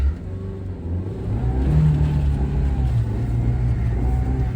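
A Nissan S-Cargo engine revs steadily as the car tries to pull out of snow, a close, sustained low droning hum that swells and holds without speech.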